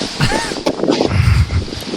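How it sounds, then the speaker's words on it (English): Gusty wind buffets the microphone with low rumbling blasts and rustle throughout, fairly loud and continuous. "it's fucking windy out here."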